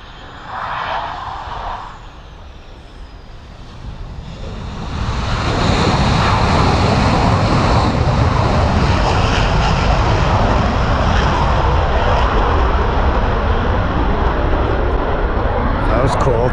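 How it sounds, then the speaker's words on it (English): A jet aircraft comes in to land at CFB Comox, its engine roar swelling from a distant whine into a loud, sustained rumble that fills the rest of the clip. "Another jet coming in."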